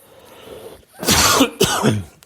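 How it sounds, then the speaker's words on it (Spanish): A couple of harsh, close coughs in quick succession after a brief quiet start, loud and raspy. "El invierno tiene estas cosas de la tos."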